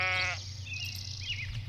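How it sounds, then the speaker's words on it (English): A sheep in the farming game Lords & Villeins gives one short nasal bleat at the start, followed by quieter game ambience with faint chirps and tones. "What are these? They have sheepies!"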